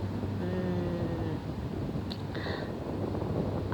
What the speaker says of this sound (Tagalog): Wala kang ibang maririnig kundi mga ihip ng hangin.